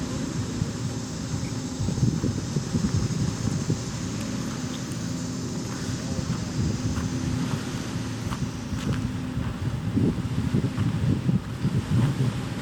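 Wind rushes steadily across the microphone near the water's edge, with a continuous low roar of surf beneath it throughout, no distinct wave breaks standing out and no voices.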